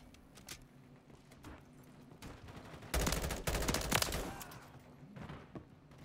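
Full-auto M16 bursts in a video game, a sharp loud string of rapid shots around the middle, with quieter scattered gunfire before and after.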